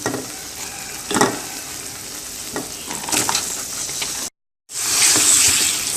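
Raw mango shreds being stirred through thick, reduced sugar syrup on low heat, a steady wet scraping and bubbling with a few louder strokes, a brief dropout near the end, then continuing alone without talk.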